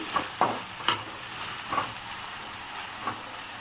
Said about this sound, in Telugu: ఇప్పుడు ఇందులోకి కట్ చేసుకున్న టొమాటో వేసుకుందాము టొమాటో బాగా మెత్తబడాలి